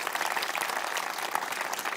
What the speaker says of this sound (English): absolutely, round of applause.